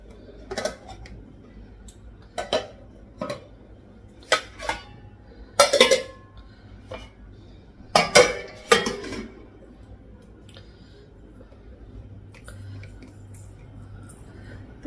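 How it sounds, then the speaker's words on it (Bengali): Steel lids and pots clatter in a home kitchen as cooked curry dishes are covered, a series of sharp metallic clanks and scrapes in irregular bursts with quiet gaps between them, close by and with no talking. "এখন হচ্ছে তরকারিগুলো ঢাকা দেবো।"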